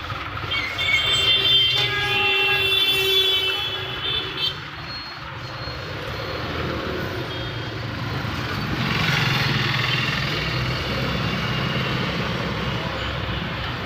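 A Suzuki Carry mini truck drives along with its freshly replaced gear wire, giving a steady, close engine and road rumble that swells and eases slightly, with no voices.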